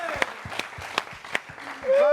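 A live audience claps in a quick, regular rhythm, with sharp, evenly spaced hand claps and voices calling out beneath them.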